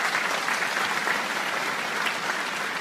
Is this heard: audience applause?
yes